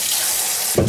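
Hot water from a kitchen tap gushes on near the end, a brief loud splash rising over a steady high hiss, while soaking greasy cabinet parts in dish soap.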